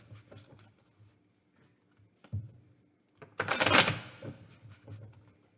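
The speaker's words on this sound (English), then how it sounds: "I need to shuffle some more" Tarot cards being shuffled by hand in a quiet room: soft scattered riffles and taps, then a louder burst of rapid card flutter near the middle, fading back to light handling.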